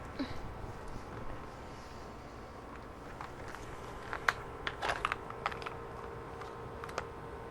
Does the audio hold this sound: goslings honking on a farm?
no